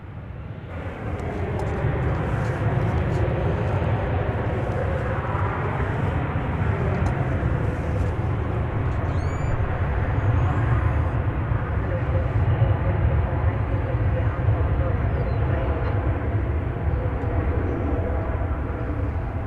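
American Airlines jet on runway 18 Left at DFW Airport, a loud, sustained engine roar close by, steady for nearly twenty seconds, with a radio voice heard partway through.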